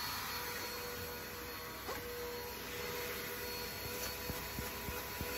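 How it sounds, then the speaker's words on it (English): A vacuum cleaner runs steadily at moderate volume while cleaning out a camper van, giving a constant whooshing drone with a few small clicks and knocks near the end and no talking. "is it enough for me to be able to vacuum this van without running out too much power"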